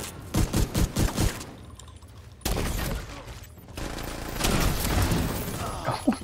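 Mini tank in a video game firing bursts of gunfire, a rapid run of sharp close shots followed by heavier continuous shooting and impacts.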